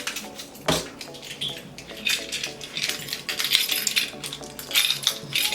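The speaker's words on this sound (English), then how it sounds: "Car keys, gym key, house key, extra keys" Several keys on a ring, car keys, a gym key and a house key, jingle and clink in bursts of bright metallic rattling, close and moderately loud, with no talking.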